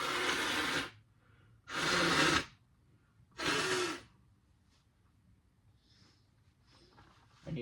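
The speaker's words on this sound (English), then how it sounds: "I needed to blow my nose" Three loud, breathy nose-blowing bursts, each about a second long and evenly spaced, heard up close indoors in a race shop, followed by quiet rustling.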